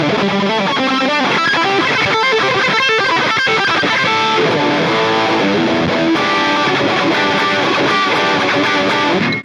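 Electric guitar played through a distortion pedal placed between the amp and the cab of a Line 6 HX Stomp setup, giving a loud, dense, saturated tone with continuous chords and riffs throughout.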